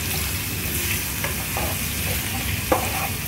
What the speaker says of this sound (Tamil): ஓரளவுக்கு நல்லா கார்லிக் ஃப்ரை ஆயிடுச்சு. இப்போ ஆனியன் ஆட் பண்ணிக்கலாம்.